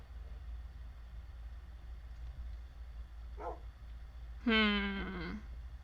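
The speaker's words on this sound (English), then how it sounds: "I keep hearing a dog, but that's my dog." A pet dog barks at home, with one short muffled yelp followed by a louder, sharper bark near the end over a quiet room hum.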